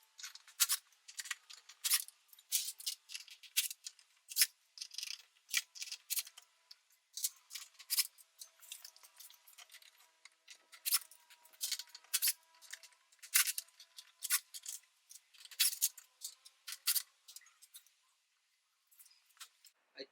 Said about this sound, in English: I'm gonna remove these screws right here